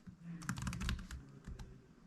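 Quick, uneven keystrokes on a computer keyboard while a name is typed into an online form. The clicks are close and fairly quiet, with a brief pause midway.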